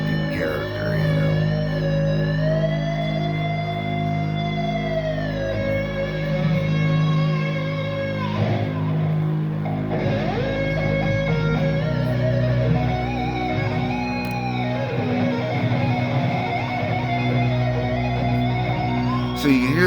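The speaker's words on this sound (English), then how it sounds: "So you can hear that drone in the background" A low, sustained organ-like drone hangs under the busy, loud mix at a rock concert in Toronto, with crowd noise and shouting layered over it throughout.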